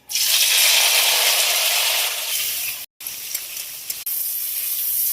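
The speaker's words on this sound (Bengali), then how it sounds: "তো তার আগে মশলাটা একটু আমি ভেজে নেবো।" Spices hit hot mustard oil in a wok with a loud burst of sizzling hiss that gradually settles, broken by brief pauses and a few clinks of stirring.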